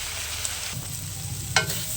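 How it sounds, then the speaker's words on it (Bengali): Taro frying in a pan with salt, turmeric and green chili, a close continuous sizzle with a brief stirring clatter near the end and no talk. "কচু আলুটা ভাজা হয়ে গেছে"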